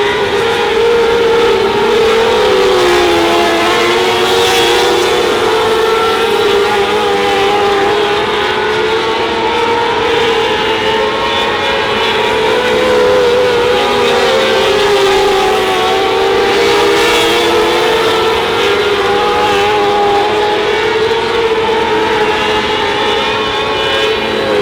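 Race car engine held at full throttle on an oval track, a loud, sustained roar with wavering pitch that never lets up, steady and close for the whole stretch with no voices over it.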